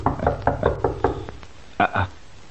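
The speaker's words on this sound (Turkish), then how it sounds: "Kapı çalıyor galiba" Knuckles rap on a door in a quick run of about six firm knocks, then two louder knocks after a pause, close and clear, with no voices.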